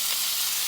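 Ground beef sizzles in a lightly oiled skillet, a steady, close frying hiss with no break across the short moment.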